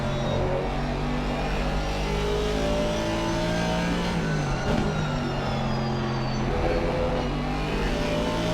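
A Camaro and an Aston Martin race cars lap Brands Hatch in a racing video game, engines howling continuously with rising and falling revs through gear changes, loud and close with no voices over them.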